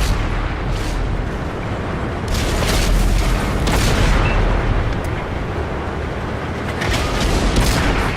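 In World of Tanks, tank cannon shells hit and punch through enemy armor, heard as loud, heavy booming impacts and rumbling blasts layered over a constant roaring battle din.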